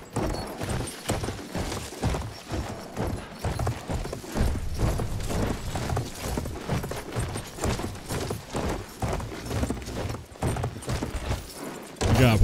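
A horse's hooves clip-clop steadily in Battlefield 1 gameplay, a fast rhythmic gallop close up over game ambience and low rumbles, with a louder thump at the end.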